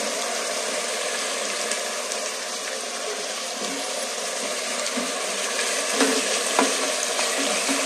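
Ginger garlic paste sizzles in a pan while chicken biryani is cooked, a steady close frying hiss with occasional stirring clatter and a louder flare of crackling toward the end.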